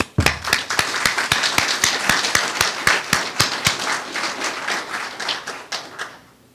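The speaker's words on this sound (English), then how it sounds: "I would like to lead the applause for all the committee members." Applause for committee members at a management agreement signing ceremony: a small group claps in a steady, fairly even rhythm of distinct sharp claps that thin out and fade toward the end.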